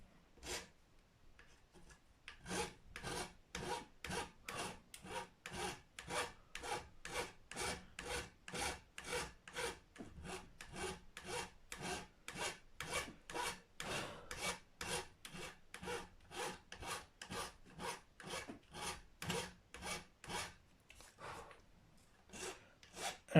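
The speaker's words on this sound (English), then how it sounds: "That one's kind of come down a bit because I've been filing that" A file rasps at the nut of a Gibson Les Paul guitar in fast, even back-and-forth strokes, close and steady for about twenty seconds after a short pause.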